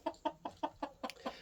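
A golden rooster clucking in a coop corner, seven short evenly spaced clucks in quick succession, close and moderately quiet with no talking.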